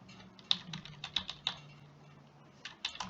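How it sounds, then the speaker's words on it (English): Light typing on a computer keyboard, with a scattered series of crisp, quiet key clicks in irregular rhythm over a faint low hum. "Now I'll type in my employee's first day of employment. I'll type in my last name"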